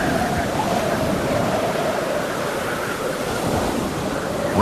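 Stormy ocean waves crash and churn off Cape Horn with strong wind roaring across them, a dense, loud and continuous wash of surf and gusts.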